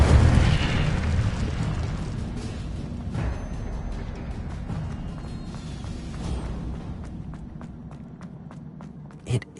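In the game Hogwarts Legacy, the Incendio fire spell bursts with a booming whoosh at the start, then fades into a rumbling crackle under steps and small clicks, ending with a light pop.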